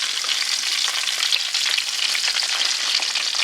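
Chicken battered in crushed Flamin Hot Cheetos fries in hot oil, a steady, loud, close sizzle and crackle that continues without pause.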